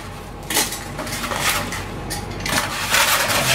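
A knife slices through a foam wing base for a model aircraft in a handful of short, crisp scraping strokes at an uneven pace, close up.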